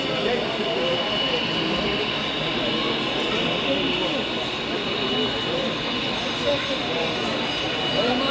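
A model train runs steadily at a railroad hobby show, a continuous rumbling whir beneath the crowded hall's murmur and nearby voices.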